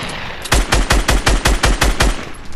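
Rapid gunfire from Fortnite Battle Royale gameplay, about ten punchy, booming shots in a fast even burst after a brief lead-in, loud and close with no talk.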